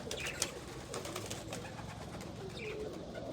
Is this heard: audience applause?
no